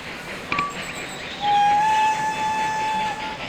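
A train pulls out in the Railroad Tycoon 3 video game: a rumbling rail sound with a short whistle toot, then a long, steady whistle tone held for about two seconds, fairly loud and with no talk.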